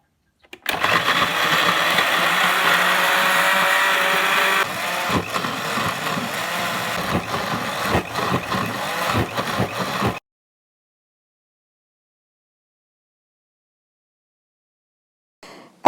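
Electric blender whirring steadily as it blends chopped pandan leaves with 200 ml of water, a loud continuous motor drone with a slight pitch drop midway and some rattling, stopping abruptly after about ten seconds, then near silence.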